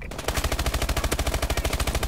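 MP11 submachine gun fire in a video game comes as one loud, sustained automatic burst of rapid, evenly spaced shots, close and punchy, and no one speaks.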